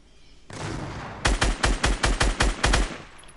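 Video game gunfire: a sustained burst opens, then a rapid string of about eight loud, evenly spaced shots, close and punchy, with no talking.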